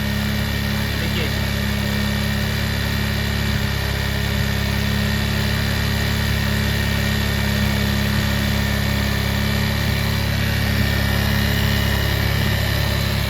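A motorcycle engine of about 100 to 125 cc idles steadily after its carburettor air screw has been adjusted, a constant close hum with a low-pitched vibration and a slight whine, while someone talks over it.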